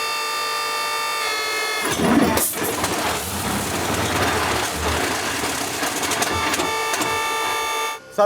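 Tank engine fitted with two large turbochargers starting up: a whirring crank builds into a rough, loud running roar with a steady mechanical whine, ending in a sudden cutoff.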